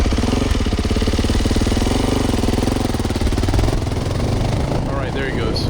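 A Yamaha YZ450F dirt bike engine runs steadily at close range, a loud rapid, even thumping idle that holds throughout while people talk over it.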